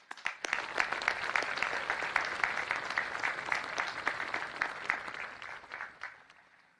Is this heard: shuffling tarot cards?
no